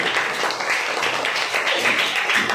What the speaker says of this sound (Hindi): एक बार आप लोग जोरदार ताली बजाएं।